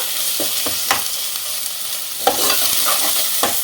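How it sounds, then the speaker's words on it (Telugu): Goat head curry hisses loudly in a pan while being mixed, a steady bright sizzle punctuated by irregular scrapes and knocks of a spoon, close by with no talking. "ఇది చక్కగా ఇలా కలిపేసేసుకుందాము. చక్కగా కలుపుకుందామండి."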